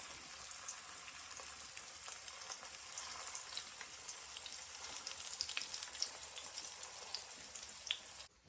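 Food for Jamaican cabbage and saltfish fries in hot oil in a pot, giving a steady close sizzle with scattered pops that cuts off abruptly at the end.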